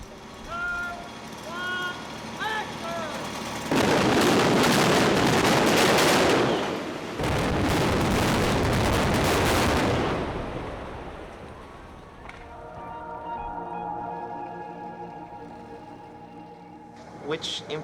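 A film-set explosion sounds as a long, loud broadband roar lasting several seconds, with a brief break in the middle, then fades into quieter rumbling. Talk comes before and after it.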